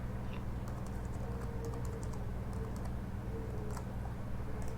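Keys clatter on a computer keyboard while a short print program is typed, producing a steady stream of light, quick taps over a constant low hum, with no talking.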